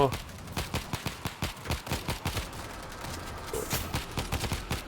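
Gunfire in the World War Z zombie shooter after the flamethrower runs dry: rapid bursts of sharp rifle shots in quick irregular runs, close and punchy, with brief pauses between volleys.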